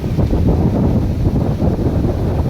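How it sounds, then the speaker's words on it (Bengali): Steady wind gusting and buffeting the microphone, a loud low rumble throughout with no voices. "এখানে দেখেন একটা কি সুন্দর বাতাস"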